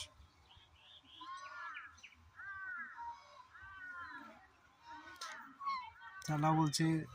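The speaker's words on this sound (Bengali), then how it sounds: "ওই দেখো বন্ধুরা, কত হাঁস, রাজহাঁস" Domestic geese honk repeatedly from a short distance in a remote village, a steady run of nasal calls that swells into a louder cluster at the end, with faint background noise.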